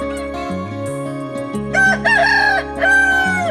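A Naked Neck chicken crows loudly and close by, a drawn-out cock-a-doodle-doo in two rising bursts, set over steady music.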